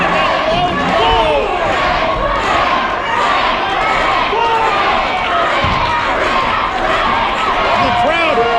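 Wrestling crowd at a PCW anniversary show cheering and shouting steadily for Rik Luxury, a dense continuous roar of voices with whoops rising throughout, loud and close.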